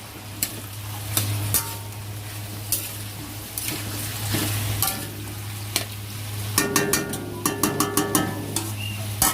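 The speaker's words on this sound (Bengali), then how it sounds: "পেঁয়াজগুলো ভাজতে দিয়ে দিয়েছি, তখন পেঁয়াজগুলো ভাজা হোক।" Onions fry in hot oil in a wok with a steady close sizzle, broken by repeated scraping and clattering stirs that quicken toward the end, and no voices.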